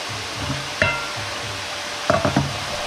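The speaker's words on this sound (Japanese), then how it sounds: "まずは普通のフライパンで弱火で野菜炒めを作ります" Vegetables stir-fry in an ordinary frying pan over low heat, giving a faint steady sizzle with a few soft scraping stirs and clinks of a utensil against the pan.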